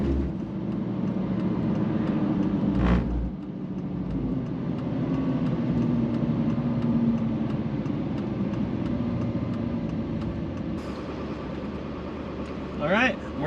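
A Duramax diesel pickup tows a load at about 2,200 RPM. The engine drones steadily and loudly inside the cab, with a sustained low rumble and road noise throughout.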